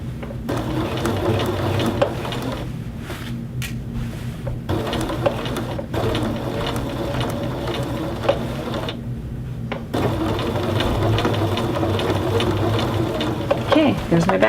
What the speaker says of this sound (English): Okay, there's my back stitching.